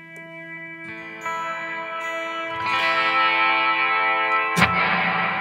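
A Dark World effects unit on its hall reverb setting turns sustained tones into a washy, spacious tail that swells in layers and ends in one brighter struck note, with no talking.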